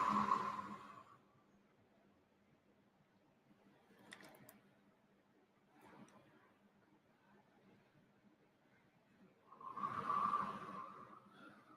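Slow, deep exhalations during a guided meditation, two loud breaths out at the start and near the end with faint breathy noise between them, heard alone without talk.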